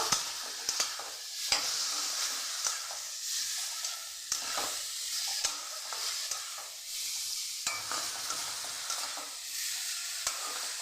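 Potatoes tossed into bottle gourd greens frying in a pan, a steady close hissing sizzle punctuated by regular spatula scrapes as everything is mixed.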